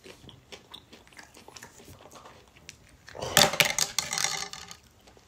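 Someone bites into bacon tossed with brown sugar and chews, a quiet start giving way to a burst of loud, close crunching in the middle before it fades.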